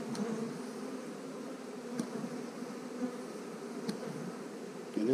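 Bees from a swarm buzz in a steady, fairly close drone, with a few brief louder passes as individuals fly near.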